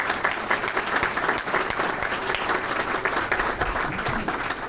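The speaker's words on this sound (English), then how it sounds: "So I want to give them a round of applause." A large audience at a 2014 State of Our City address claps steadily throughout, a dense, continuous round of applause with no speech over it.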